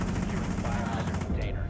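Rapid automatic gunfire from the Rainbow Six Siege video game, a loud continuous burst of shots that stops near the end. Player voices can be heard over it.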